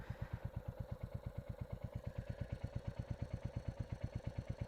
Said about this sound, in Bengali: that crunchy engine noise